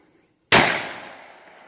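A single loud .44 Magnum gunshot during outdoor ballistics testing, a sharp crack that cuts through silence and then decays into a long rolling echo.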